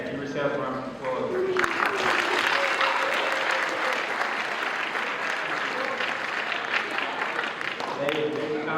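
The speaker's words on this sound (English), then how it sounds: "Give yourself a round of applause." Audience applause at an 8th grade promotion ceremony, a sustained burst of clapping from a crowd that swells in after a spoken opening and carries on steadily, with voices returning at the end.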